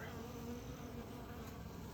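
Honey bees buzz steadily around a hive, a dense continuous hum at close range with no talk over it.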